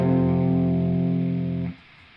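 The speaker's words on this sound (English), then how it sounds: "Obviously with distortion it sounds a lot better" A single distorted electric guitar power chord rings out thick and sustained for under two seconds, then is abruptly cut off.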